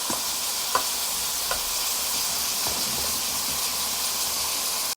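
Overnight-marinated bone-in pork frying in hot oil, giving a loud, continuous sizzle and hiss up close, with a few sharp pops and spatters early on.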